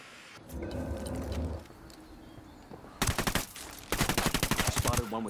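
Bursts of automatic gunfire in the tactical shooter Ghost Recon Wildlands, loud and close, coming in two rapid rattling volleys after a quieter stretch with faint background rumble.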